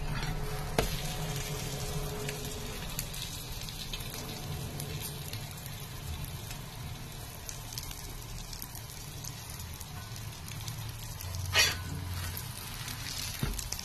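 Vegetable egg omelette frying gently over a low flame, a steady soft sizzle running throughout with faint crackles and a brief brighter burst near the end, no voices.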